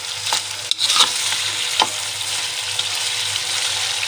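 Steady sizzling and crackling of chicken frying in a hot pan with garlic, ginger and green chillies for white karahi, with a few brief clinks of a utensil stirring.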